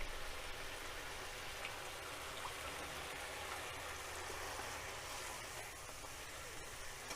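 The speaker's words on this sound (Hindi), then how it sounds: "इसमें मैं थोड़ा सा गर्म पानी डाल करके" Hot water poured into okra frying in a pan gives a steady, dense hiss and sizzle like heavy rain, continuous and even for the whole stretch with no talk.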